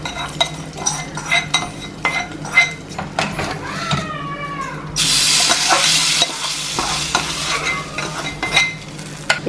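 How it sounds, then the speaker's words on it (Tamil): Tempering of ghee and asafoetida being stirred into ven pongal in a pot, with a steady run of spoon scrapes and clinks against metal, a brief loud sizzle burst midway, close and busy with no talk. "இப்போ நல்லா மிக்ஸ் பண்ணி விட்டுங்க."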